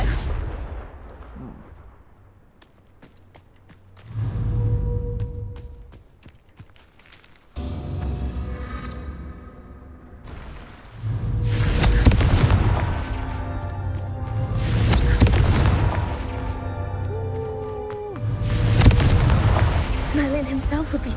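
Confringo fire spells repeatedly explode in the video game Hogwarts Legacy, a series of loud, booming blasts several seconds apart with rumbling tails, amid game sounds and brief voices.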